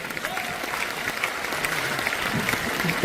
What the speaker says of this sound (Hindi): मैं ताली बजा सकती हूं